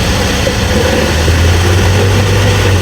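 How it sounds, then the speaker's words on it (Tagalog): Diesel engine of an Isuzu Traviz recovering from a low-power fault, running loud and close with a steady low drone and a rising tone partway through as the revs climb, no talking. "So tingnan natin ngayon yung RPM niya kung lalakas."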